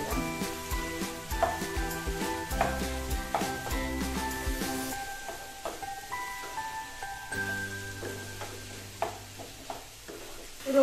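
Mushrooms being stirred into a masala in a pan, Konkan style, with a steady sizzle and frying crackle under repeated scraping and clinking of the spoon against the pan, close and continuous.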